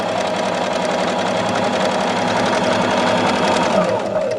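Sewing machine running steadily through a decorative stitch with variegated thread, a continuous near whirring hum with a fast rapid rhythmic ticking of the needle mechanism, loud and uninterrupted throughout.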